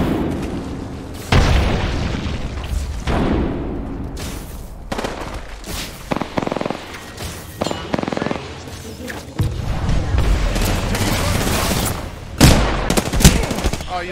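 Dense gunfire from a round of the Apex Legends video game: bursts of automatic fire and heavy booms, loud and close, shifting in intensity, with a voice talking over parts of it.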